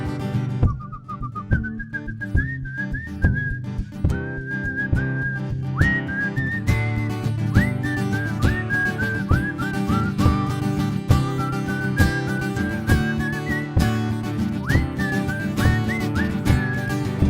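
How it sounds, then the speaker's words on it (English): A bright, high tin whistle plays a lively melodic solo over a full band with steady drums and bass, loud and continuous throughout. "And now the tin whistle solo goes on"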